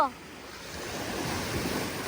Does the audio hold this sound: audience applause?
no